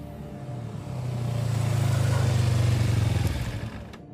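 A motorcycle engine idles with a low, steady rumble that swells slightly, then cuts out abruptly near the end, leaving near silence.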